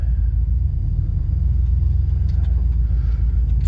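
A car rolls slowly off a tarp laid on blocks, giving a steady low engine rumble that stays close and even throughout, with no voices.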